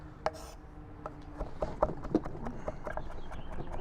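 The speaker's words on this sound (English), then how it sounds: "Finally chopping something." A knife chops on a board in a handful of sharp, uneven knocks, close by, with scraping between strikes and no talking.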